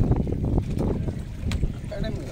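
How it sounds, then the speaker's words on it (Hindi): Boat ride on water in heavy fog at Mahabaleshwar, with a steady low rumble of water and wind buffeting the microphone throughout, and voices talking faintly underneath. "हम अभी बोट राइड कर रहे"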